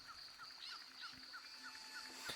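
Chirping bird calls from the nature area of the Rayman video game, a run of short repeated chirps over a steady high background tone, fairly faint and with no one talking.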